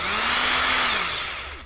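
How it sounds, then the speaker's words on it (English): A cordless drill drives screws into the rear differential of an Arrma Typhon 6s RC car, its motor whining loudly and close in one continuous burst that rises, then slowly winds down. "I put them in almost all the way, not quite, with the driver, with the drill, should I say."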